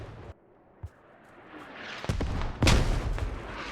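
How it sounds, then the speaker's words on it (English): A grenade explosion in a milsim esports video game, heard as a muffled thud, then a rising rumble that swells into a loud, close boom. "Grenade goes out."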